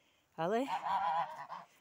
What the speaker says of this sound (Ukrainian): А ось ось старші гуси. Ганяють менших